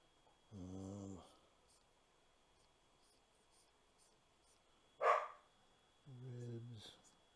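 A pet dog indoors gives two drawn-out, low, quiet vocal grumbles several seconds apart, with a brief sharp noise between them, against a near-silent room.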